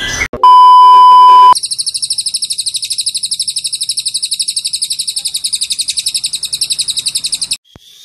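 After a brief electronic beep, a competition songbird sings close and loud, repeating a rapid, evenly spaced high chirp for about six seconds without pause.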